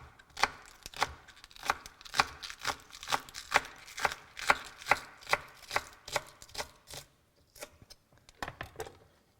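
Knife chopping spring onions on a cutting board, a steady run of about twenty crisp, close taps that slows and spaces out near the end.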